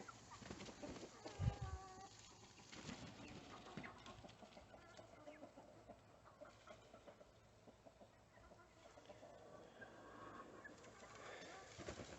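Backyard chickens cluck and murmur while sorting out their pecking order, with soft, scattered calls and a brief louder squawk near the start over a quiet outdoor background.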